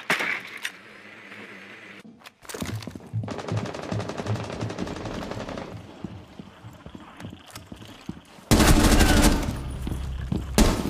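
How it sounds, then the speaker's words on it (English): Gunfire in Rainbow Six Siege, a sustained rapid rattle of automatic shots followed by a louder, denser burst near the end, close and intense with brief quiet gaps between volleys. "Oh, someone just shot out at me."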